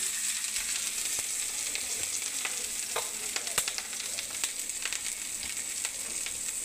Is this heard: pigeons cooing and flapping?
no